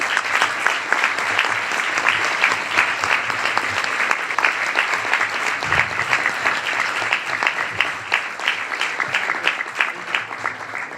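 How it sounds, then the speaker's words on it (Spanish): Sustained applause from an audience, dense steady clapping that stays loud and even for about eleven seconds without a break. "El aplauso es para ella, ¿eh?"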